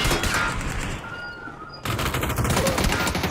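Rapid bursts of automatic gunfire in the battle royale game PUBG, loud and continuous with a brief lull in the middle before the firing resumes.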